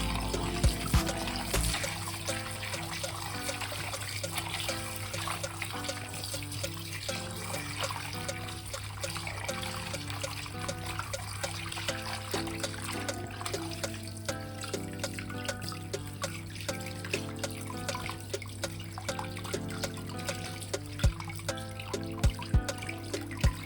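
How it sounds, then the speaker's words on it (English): Tap water runs steadily while chicken gizzards are washed, a close, continuous trickling and splashing stream that carries on without a break and without any talk. "let's begin washing the gizzard"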